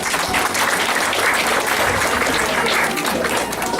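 Loud, dense clapping from a crowd at an Indian wedding, sustained and close, with a faint murmur of voices mixed in.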